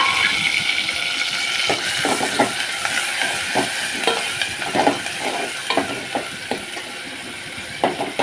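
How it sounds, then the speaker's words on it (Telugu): Tomato and green chilli frying with onions in a pan for rava upma, a steady broadband sizzle running throughout with repeated scraping stirs of a spoon against the pan bottom at an irregular rhythm, close and fairly loud, no talking. "వేగిందాక తిప్పుతా ఉన్నాము, లేదంటే అడుగంటే మాడతాయి."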